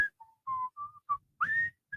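A person whistles a short, bright melody up close, a string of clear sustained notes with brief pauses between them.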